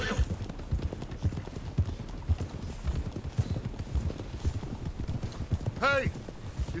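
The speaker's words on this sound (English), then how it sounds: "Let's make these horses run." Horses gallop in the western game Red Dead Redemption 2, a fast rhythmic clatter of hooves close by, a horse whinnies near the end, and voices talk over the hoofbeats.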